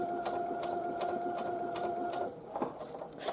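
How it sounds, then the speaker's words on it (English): A sewing machine stitching slowly around a small elephant design on fabric, a steady whirring hum with rapid needle ticks that stops after about two seconds, then a few soft clicks. "Just do a little stitch across and work your way around."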